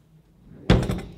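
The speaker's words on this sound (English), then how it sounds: "And it just unlocked our door." A smart safe door lock unlocking remotely, heard as a single sharp mechanical clunk of the bolt retracting, fairly close and loud, followed by a short rattling tail and a second softer knock.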